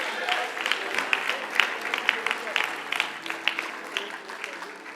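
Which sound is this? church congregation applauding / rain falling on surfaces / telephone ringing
church congregation applauding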